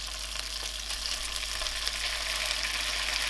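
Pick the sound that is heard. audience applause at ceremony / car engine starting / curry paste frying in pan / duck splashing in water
curry paste frying in pan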